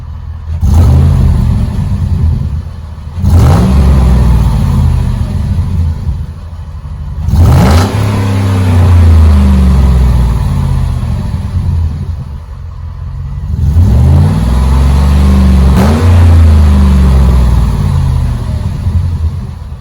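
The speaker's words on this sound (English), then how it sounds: "give some revs." A car engine with a third catalytic converter deleted revs hard through the exhaust several times, each rise in pitch dropping back to a rumbling idle, loud and close.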